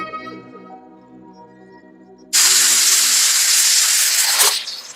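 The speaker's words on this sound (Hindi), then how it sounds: "मुझसे अच्छा तो ये प्रेशर कुकर है" Pressure cooker suddenly releasing steam with a loud, close, steady hiss that lasts about two seconds and then cuts off, after a quieter tonal sound.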